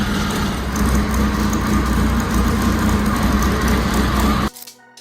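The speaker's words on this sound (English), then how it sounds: "The Indian 4's temperamental engine." A vintage Indian Four motorcycle engine runs steadily with a low, even idle-like drone, loud and close, for about four and a half seconds before cutting off abruptly.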